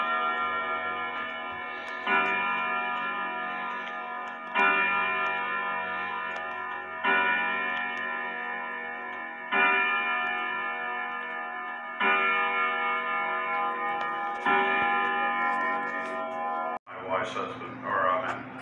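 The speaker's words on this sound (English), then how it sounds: "the clock is up and running" A Ridgeway grandfather clock with an Urgos 32/1A Westminster-chime movement ticks in a steady, even rhythm, close and clear, with a brief louder clunk near the end.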